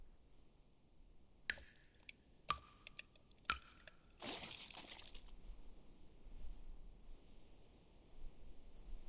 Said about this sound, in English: Sounds like dripping water.